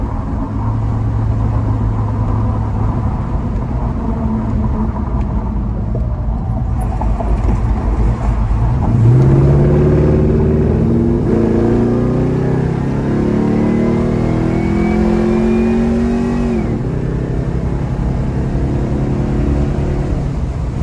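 A 1972 Chevrolet Chevelle cruises at 80 miles an hour, giving a constant loud drone of engine and road noise with rising and falling whining tones throughout, and no talking.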